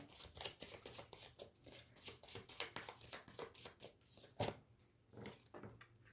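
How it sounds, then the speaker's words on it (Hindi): Tarot cards drawn and shuffled by hand, giving a steady run of quick papery flicks and riffles that stay close and moderately loud, with one sharper snap partway through and no talking. "कार्ड्स हम निकाल लेते हैं। ये फीलिंग के कार्ड्स हैं।"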